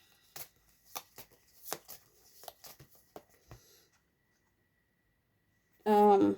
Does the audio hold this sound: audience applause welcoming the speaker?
no